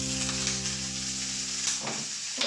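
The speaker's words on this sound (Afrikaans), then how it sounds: "So ek gaan 'n klein bietjie van hierdie olyfolie in my pan gooi en dan gaan ek my maalvleis begin braai." Minced meat sizzles steadily in olive oil in a pan, a close, continuous frying hiss with a faint stir near the end and no talk.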